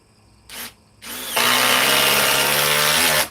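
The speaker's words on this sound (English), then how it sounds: "So DeWalt XR DCF 860, 5 amp power stack." A DeWalt XR DCF860 impact driver with a 5 amp power stack battery drives into OSB and wood, with two short bursts, then a loud sustained run for about two seconds, close up.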